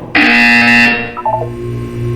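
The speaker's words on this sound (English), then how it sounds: "When you hear the buzzer, look down at the floor." A steady electronic buzzer from the video game Portal 2 sounds loud and close for just under a second, then cuts off, leaving a brief softer tonal blip and low background hum.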